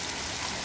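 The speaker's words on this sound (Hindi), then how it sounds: "बहुत तेज बारिश हो रही है आज तो" Heavy rain falls steadily on a hillside home in Uttarakhand, a dense, even hiss of rain on surfaces with no break, close and continuous throughout.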